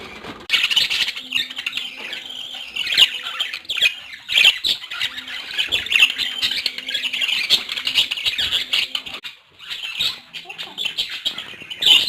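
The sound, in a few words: colourful pet birds squawking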